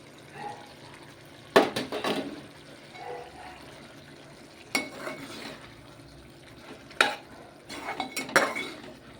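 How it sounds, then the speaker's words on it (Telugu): Ivy gourds tipped into a pan for curry, heard as a few sharp clattering bursts and stirring scrapes over quiet background, close by. "దొండకాయలు వేసేస్తున్నాను"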